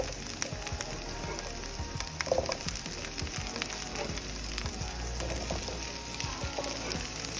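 Asparagus stems hit a pan of cooked onions and sizzle steadily, a soft, close, crackling fry with light stirring and scraping throughout and no voices.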